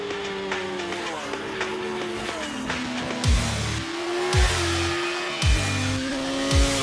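A race car drives fast on the track at Gowran Park during a festival of speed, its engine revving high and shifting gears repeatedly as it passes, with some voices faintly underneath.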